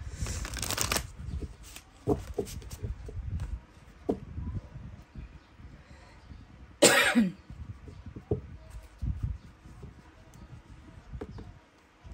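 A woman gives one sudden, loud cough during a tarot card reading, with softer throat sounds and the close, papery rustle of cards being shuffled around it.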